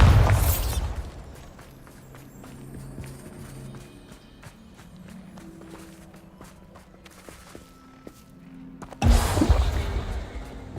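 Spell blasts in a wizarding video game: a loud burst at the start and another sharp explosion near the end, with quieter game ambience and low rumbling between them.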